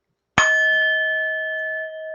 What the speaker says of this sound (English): I feel like ringing the bell this morning.